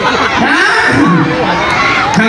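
A crowd at a Thai political rally shouts back loudly all at once, a dense wall of overlapping voices and yells that carries on throughout.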